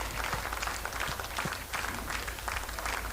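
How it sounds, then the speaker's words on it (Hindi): A crowd at a dance competition grand finale in Seppa, Arunachal Pradesh, applauds a guest on stage, sustained dense clapping heard from a distance at low, even loudness. "जोरदार तालियां हो जाए सर नोरबू सोनम जी के लिए"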